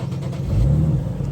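A straight-piped Infiniti G37xs gives a brief, rough exhaust rev, a close, deep rumble that swells and eases within about a second.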